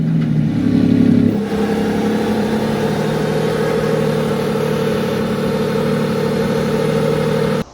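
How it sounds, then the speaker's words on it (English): The 6.5-liter V12 of a Lamborghini Revuelto with a new exhaust system runs loud and close, a brief rev swelling before settling into a steady, high-pitched drone that cuts off at the end. "this brand new exhaust system, which is designed to decrease back pressure at high revs and just flow a lot easier"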